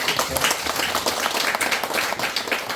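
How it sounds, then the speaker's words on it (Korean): A church congregation claps together at a prayer-house anniversary service, a steady dense patter of hands at moderate level with no voices over it. "박수 한번 칩시다"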